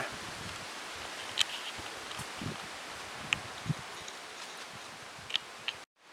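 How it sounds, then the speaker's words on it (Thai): Wind rustles through plants at a rocky cliff edge, a continuous breezy hiss with scattered leafy ticks and light handling bumps, steady and close before cutting off abruptly at the end. "แต่ก็มีลมพัดหน่อยนะครับ"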